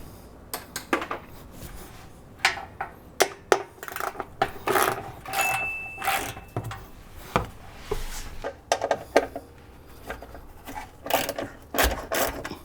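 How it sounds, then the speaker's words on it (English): A ratchet works 10 mm bolts loose during an oil change on a 2013 Volvo XC90, with bursts of rapid mechanical clicking separated by short pauses and occasional metallic knocks, up close with no talking. "So we'll go ahead and get those popped off. And these are going to be 10 millimeter bolts."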